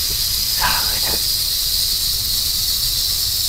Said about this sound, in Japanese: このラトルの部分を鳴らすことによってですね、危ないよ危険だよっていうのを伝えてくれる